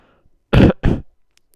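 Two sharp coughs close to the microphone, one right after the other, loud against near silence.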